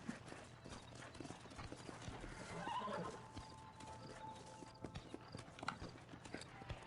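Horse hooves clip-clop in a steady stride in the video game Red Dead Redemption, with a neigh partway through, quiet and close, set over low game background sound.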